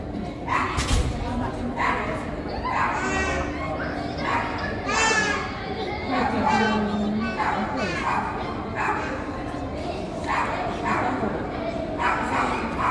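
Two dogs bark and yip repeatedly at a dog training club session outdoors, with excited whimpers between barks, while children play and voices chatter in the background.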